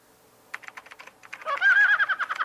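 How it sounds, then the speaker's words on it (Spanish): Rapid clicking keystrokes on a computer keyboard, first a few scattered taps, then a quick dense burst, faint and close, with no voices. "Con un tecleo rápido"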